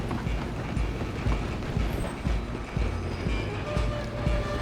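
A train runs in Red Dead Redemption 2, its wheels clattering in a rapid, rhythmic rumble with metallic clicks, steady and fairly loud. Horse hoofbeats are likely mixed in, with no speech over it.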